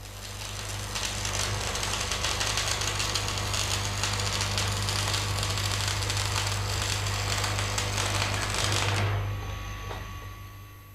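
Stick welding with a coated electrode held at about 70 degrees along the weld line gives a steady, continuous crackling hiss that holds evenly for about nine seconds, then stops abruptly, leaving a faint low hum.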